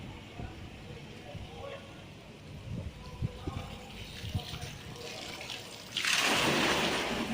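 Water from the Piazza Fountain in Liverpool rushes and splashes outdoors, faint at first amid street noise, then swelling into a loud steady gush near the end while someone talks.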